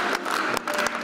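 Applause for a frontline war veteran: a brief, dense burst of many hands clapping together, moderately loud and continuous with slight surges.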